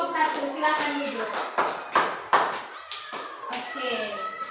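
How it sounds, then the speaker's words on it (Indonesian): Children in a primary school classroom clap for a group of classmates, a brisk, uneven patter of small hands close by with kids' voices chattering over it. "tepuk tangan lagi untuk kelompok 1"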